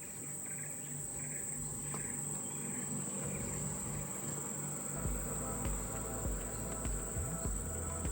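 Tropical rainforest in Borneo near the Kinabatangan River, a dense, constant chorus of insects with a high steady cricket whine over faint buzzing and low rustle, calm and unbroken.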